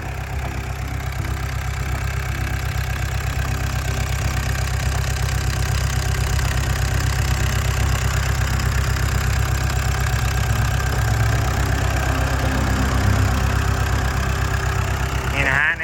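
A Komatsu WA100-6 wheel loader's four-cylinder turbo diesel engine idles steadily and close by, a continuous low rumble with a faint knocking texture and no voices.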